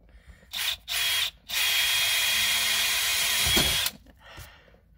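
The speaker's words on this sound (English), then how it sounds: "he's going to drill through the dash" A power drill drilling through a car dashboard whines in two quick bursts, then runs steadily for a couple of seconds before stopping, close and loud.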